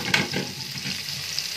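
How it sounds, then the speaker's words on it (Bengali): Sliced onions dropped into hot oil in a kadai to fry crisp for ilish pulao hiss in a brief, steady sizzle, loudest at the start and then settling, close by with no speech. "এখন কড়াইয়ে বসে দিছি পেঁয়াজগুলো বেরেস্তে করার জন্য"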